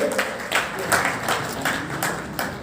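A group claps in a loose, steady rhythm, the regular beats of many hands standing out against a busy background with some voices.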